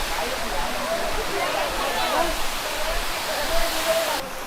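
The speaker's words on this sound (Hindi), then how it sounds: "यहाँ से ये लेक का पानी इधर से नीचे आता है" Lake water rushes down a hillside at Matheran hill station in Maharashtra, a loud, steady outdoor roar of flowing water heard nearby without pause.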